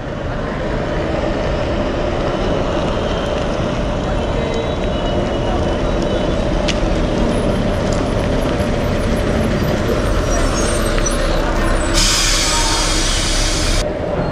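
MSRTC sleeper bus pulling in with a steady low engine rumble and road noise, ending in a loud burst of air-brake hiss near the end, with voices around it.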